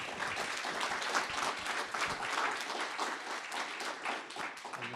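Applause from a conference audience after a paper on industrial policy, a faint, continuous patter of many hands lasting the whole stretch with no clear break.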